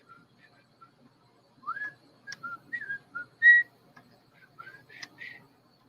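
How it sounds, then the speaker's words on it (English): A person whistles a short melodic tune in clear, bright phrases with pauses between them, close and fairly soft against a quiet room. "I'll whistle a famous tune"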